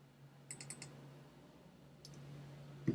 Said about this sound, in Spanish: doy doble clic